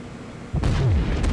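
Naval gunfire in a warship video game: a sudden heavy boom bursts in halfway through and rolls on with a deep rumbling tail, loud and close, no talking.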